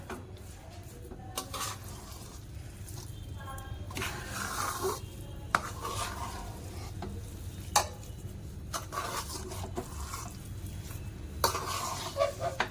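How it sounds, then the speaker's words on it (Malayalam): A spoon stirs a thick mixture in a cheenachatti frying pan while it cooks for Karnataka-style Mysore bonda, with repeated scraping strokes over a steady soft sizzle and occasional sharp clinks against the pan. "ഇതിങ്ങനെ ഇളക്കി നമ്മുടെ ഈ ചീനിച്ചട്ടിയെന്ന് വിട്ടു വരുന്ന പരുവമാകണം"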